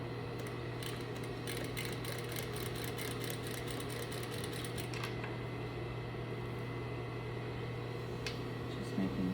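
A sewing machine runs at a slow, steady pace while a collar is stitched and the fabric is pivoted, giving a continuous low mechanical hum with a faint rapid ticking through the first half.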